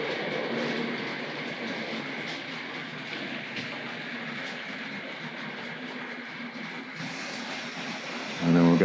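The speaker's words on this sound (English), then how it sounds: "And then we'll get the cement train underway." A Tri-ang R.55 single-ended model diesel pulls cement wagons around a model railway layout with tight curves, giving a steady, moderately quiet rolling clatter and hum that continues without a break.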